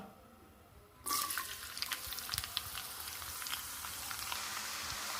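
Long-cut garlic hitting hot oil in a pan, a sudden loud sizzle that holds steady as a continuous crackling fry, close and alone without talk.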